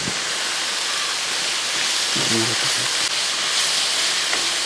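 Sliced onions sautéing with a pinch of salt in a pan for chicken curry, giving a loud, continuous hissing sizzle with a brief clatter partway through.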